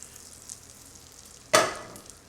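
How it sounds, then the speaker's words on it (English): Meat drops into hot oil and butter in a pan, setting off a sudden loud sizzle that fades over the following second after a quiet lead-in. "so we're going to sear it real quick"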